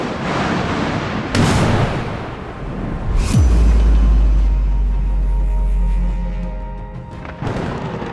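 An explosion representing matter and antimatter colliding: a heavy boom followed by a long, deep rumbling roar that slowly fades, with sharp bursts before and after.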